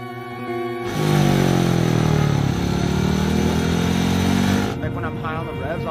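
A speedway motorcycle engine idles, then rises into a loud, sustained revving roar at the start line that holds for several seconds before dropping back to an idle. A voice talks faintly underneath.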